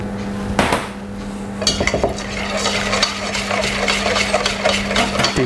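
A honey and oil marinade for salmon is stirred in a bowl, a spoon scraping and clinking steadily against the sides, with a low constant hum running underneath.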